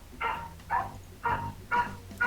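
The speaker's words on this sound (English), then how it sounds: "there's a dog barking outside" A dog barks outdoors at a distance, four evenly spaced barks roughly half a second apart, moderately faint behind a quiet room.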